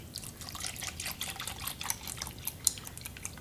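Milk poured into a pot for creamy grits, a soft trickling, dripping liquid sound that runs steadily throughout with small splashes, close and fairly quiet with no talk.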